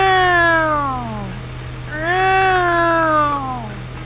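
A voice imitates a cat with two long, drawn-out meows, rising then falling in pitch, loud and close.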